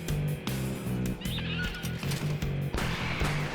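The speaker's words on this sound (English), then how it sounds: "Oh, I remember those chirping noises." Chirping creatures in the shooter video game Wrack, honking tonal calls repeating in short bursts over a dense, loud game soundscape, close and continuous.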